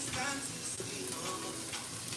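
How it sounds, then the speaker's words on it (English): A pot of beans, tomato and vegetables bubbles on a stove, a steady close hissing simmer with soft popping that carries on unbroken. "See, it's just boiling, just like that."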